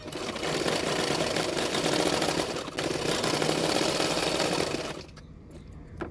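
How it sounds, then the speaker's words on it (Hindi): A sewing machine stitches along the edges of the back part of a size 34 princess-cut blouse laid on the main fabric. A continuous close motor whir runs with one brief dip, then cuts off near the end. "मेन फैब्रिक में रखते हुए बैक पार्ट जो है उसके किनारे किनारे पे मैं सिलाई कर रही हूँ।"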